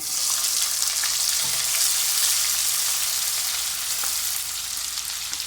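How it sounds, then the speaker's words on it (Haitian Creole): Onions fry in a pot for Haitian djon djon rice with crab and shrimp, giving a dense, even sizzle that holds steady and close throughout. "Les oignons commencent à frire"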